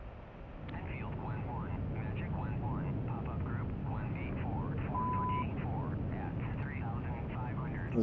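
Mirage 2000C jet in a flight simulator, a steady engine roar throughout with faint radio chatter and short tones over it.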